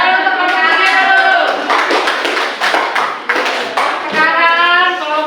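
Classroom audience clapping for a presenting group, a short burst of scattered hand claps in the middle, with voices talking before and after.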